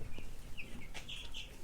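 Broiler chickens in a poultry house give short, chirpy clucks and peeps, scattered irregularly over low background noise.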